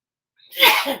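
A single sharp sneeze bursts out after a moment of silence, close and loud.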